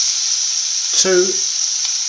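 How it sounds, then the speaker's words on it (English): Steady sizzling of onions frying in a pan, a continuous hiss with a brief louder burst partway through, close and fairly loud. "We'll cook that out for about 5 minutes, frying it nicely."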